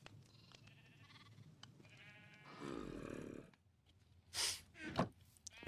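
Minecraft sheep bleat in a few short, nasal calls toward the end, following quieter game sounds and a low rumbling stretch, fairly close and clear.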